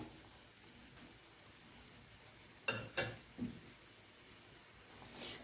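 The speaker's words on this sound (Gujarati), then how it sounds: "અને હવે તેમાં આપણે આ પાલક જે બાફીથી તે ઉમેરી દઈશું" Boiled spinach goes into a pan of tempered dal, a soft steady sizzle with three quick splashing thumps as it drops in and gets mixed, quiet and close.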